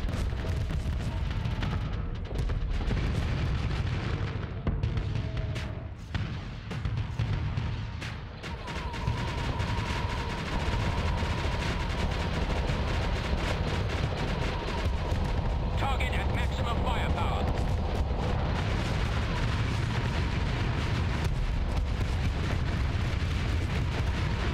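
Missile explosions in a Starsector space battle with Star Wars mods: a long stretch of heavy booming blasts and rumbling impacts, nearly continuous and loud, with a brief dip before the barrage resumes.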